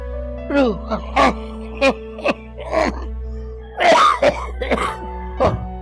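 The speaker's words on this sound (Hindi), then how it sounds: "देख रही है मुझे कितनी खांसी आ रही" A person coughs and clears their throat in a series of short, harsh bursts, with a heavier fit of coughing near the middle.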